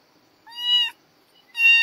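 A small kitten meowing twice, high-pitched and clear, each cry short and close with silence between.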